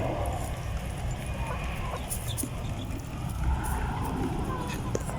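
Black hens and a Rhode Island Red rooster cluck faintly in a coop amid steady outdoor background noise, with occasional soft bird calls.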